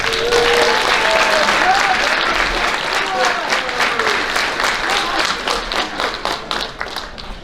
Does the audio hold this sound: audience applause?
yes